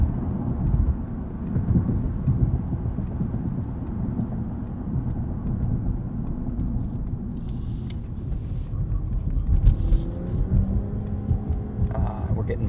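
A 2024 Mercedes-Benz E450 of the W214 E-Class in sport mode, merging onto a highway in the evening: a steady low engine and road rumble from inside the cabin, with a slight swell as it accelerates.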